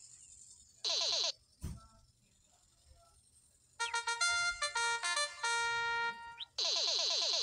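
A bright electronic jingle from the quiz video game Shovelware's Brain Game plays a run of rapid harmonic tones from about 3.8 to 6.5 seconds, bracketed by short chirping bursts and a thump, with no talking.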